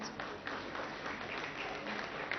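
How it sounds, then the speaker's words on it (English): An audience at a mould shop inauguration claps in recognition, a steady, moderately distant patter of applause with no clear voices. "I want to applaud you and be recognized"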